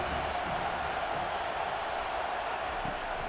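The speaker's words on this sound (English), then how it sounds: "Decibels rising as the crowd gets behind this defense on third down." Stadium crowd in the College Football 25 video game on a defensive third down, a steady, dense roar of cheering that holds at an even level throughout.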